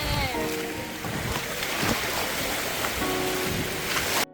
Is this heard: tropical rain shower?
yes